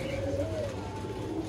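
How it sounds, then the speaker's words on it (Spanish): Pouter pigeons (buchonas) coo nearby in a low, steady, throaty rumble that rolls on without a break, fairly loud and with no talking over it. "Pero aquí hay palomas de buchones."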